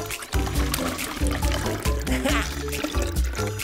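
Water poured from a plastic bottle into a plastic container, a steady liquid filling sound with some trickling, heard close up over a background of music.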